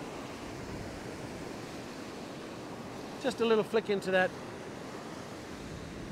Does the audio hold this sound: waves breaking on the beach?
yes